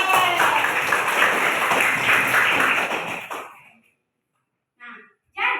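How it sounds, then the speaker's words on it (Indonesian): Classroom applause from a group of students rings out as a dense burst of clapping, then cuts off into silence, followed by a couple of short voice sounds. "Tepuk tangan untuk Abel."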